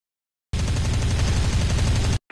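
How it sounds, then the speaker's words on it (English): Rapid machine gun and cannon fire from a fighter plane in a dogfighting video game tutorial, a loud, dense continuous burst lasting about a second and a half, heard alone and ending abruptly. "Your machine guns and cannons are perfect for hitting light."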